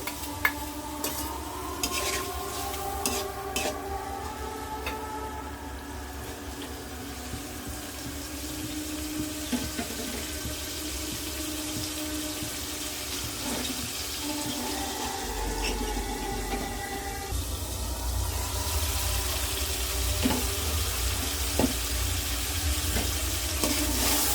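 Prawns hit a pan of cooked-down spice masala and fry with a continuous sizzle. Stirring scrapes and utensil clicks come in bursts, and the hiss swells louder toward the end, close and without talk.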